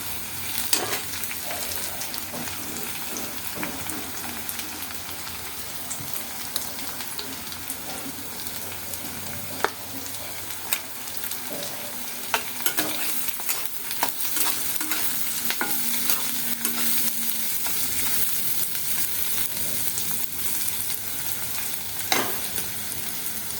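Curry leaves drop into hot oil while poha is being cooked, giving a faint, steady sizzle with scattered crackles and pops and occasional stirring scrapes.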